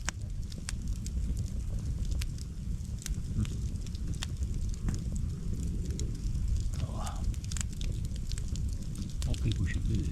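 A campfire on a frosty November day crackles and pops in sharp, irregular snaps over a low rumble of flames and light wind.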